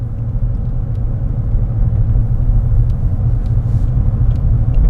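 Car driving with cruise control set around 20 miles per hour, a steady, close low rumble of engine and road noise running unbroken throughout, with no talking.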